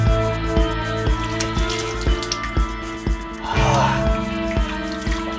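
Water trickles and drips steadily into a large rock-cut tank at Daulatabad Fort, with regular plinking drops over a continuous flowing hum and a brief splashier burst midway.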